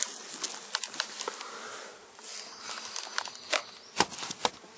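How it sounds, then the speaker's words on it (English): A package of honeybees about to be installed in a hive box gives a close, droning buzz, overlaid with scattered taps and rustles of handling the package. "basically take these bees and get them into a hive box"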